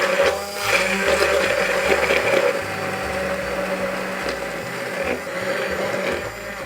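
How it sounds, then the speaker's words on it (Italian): An immersion blender whirs through basil and eggs in a home kitchen, a continuous motor drone with a shifting pitch as the blade churns the mixture. "frullatore ad immersione e frulliamo il basilico con le uova"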